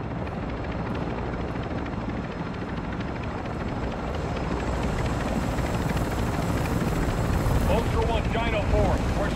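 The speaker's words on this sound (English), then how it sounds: "but the helicopter's almost here." A helicopter in the DMZ game mode closes in with a steady, heavy rotor thrum that grows slightly louder and nearer throughout, with faint game effects layered on top.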